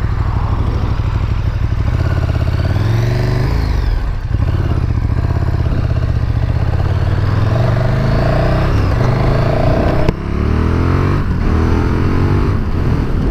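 A KTM 1290 Super Duke R motorcycle rides steadily, its engine droning loud and close for the whole stretch with shifting pitch as it accelerates and eases off, and a brief dip near the middle.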